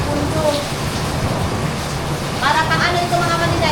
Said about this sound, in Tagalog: Sobrang lakas na naman ang ulan.